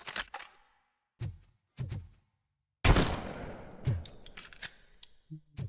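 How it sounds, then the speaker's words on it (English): A heavy pistol fired in the RoboCop: Rogue City video game: a few sharp single shots, then a louder blast with a lingering metallic decay and faint clinks, close and clear. "Heavy pistol."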